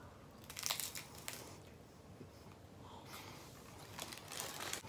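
Someone bites into a Cool Ranch Doritos Locos taco from Taco Bell, giving a few soft, close crunches and chewing crackles, quiet and with no talk.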